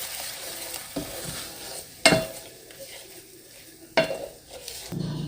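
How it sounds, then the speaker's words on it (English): Scrambled eggs cook in a pan, a soft sizzle beneath a few sharp scrapes and clinks of a utensil stirring against the pan, quiet and close with no talking. "I'm just making some scrambled eggs."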